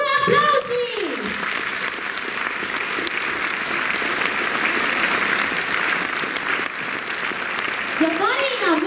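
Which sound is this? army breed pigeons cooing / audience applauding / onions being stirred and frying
audience applauding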